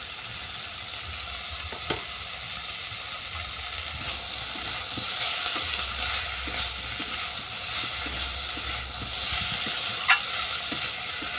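Red amaranth greens with a boroli fish head, salt and turmeric stirred in a frying pan, a steady close sizzle with soft scraping strokes and a couple of sharp utensil clinks, no voices.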